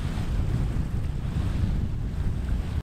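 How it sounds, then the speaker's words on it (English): Steady wind buffets the microphone at a campsite, a loud, continuous rumbling gust with no voices that drops out abruptly at the end. "even though a little bit windy today."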